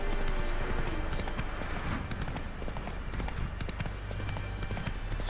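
Hooves of Roach, Geralt's horse in The Witcher 3 video game, clip-clop in a steady walking rhythm across a swampy setting, with a constant ambient bed underneath and faint voices in the background.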